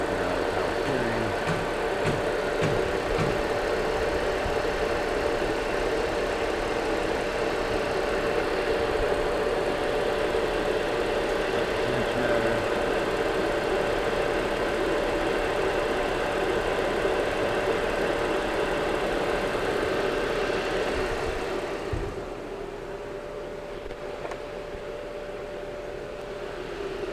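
An Audi engine runs steadily at idle with a constant mid-pitched hum and a faint steady tone, with possible rubbing from the alternator, compressor or power steering. The engine drone softens slightly near the end.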